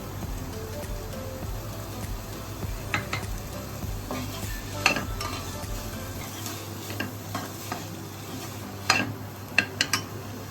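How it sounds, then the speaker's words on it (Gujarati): Boiled beans, carrots and peas are tipped into a pan of frying vegetable Hyderabadi biryani base and stirred, giving a soft steady sizzle broken by scattered spoon scrapes and clicks, with a few sharper knocks near the end. "બીન્સ ગાજર અને વટાણા બધું છે ને બાફીને રાખ્યું હતું અને એને આપણે એડ કરીશું અંદર"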